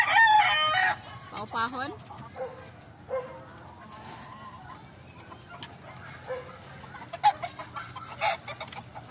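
Chickens cluck close by, with a loud crowing rooster burst at the start and scattered short clucks after, over a steady low background and a brief voice.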